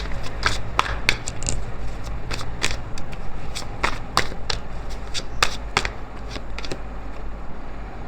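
A deck of tarot cards being shuffled for several seconds, repeated sharp riffling snaps and flicks over a steady low background hum, close by with no talking.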